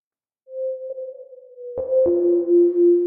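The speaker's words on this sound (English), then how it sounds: "I'm going to add that big reverb." A sustained synth tone that steps down in pitch, its notes washing into a long, spacious reverb tail.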